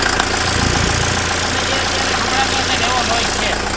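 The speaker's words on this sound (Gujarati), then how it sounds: "આનો એન્જિનનો નોઈઝ છે એ પણ તમને સંભળાવી દઉં આવી રીતે નોઈઝ આવે" A Solis JP 975 tractor engine runs steadily nearby, a continuous mid-pitched hum with a faint knocking rhythm, fairly loud and unbroken throughout.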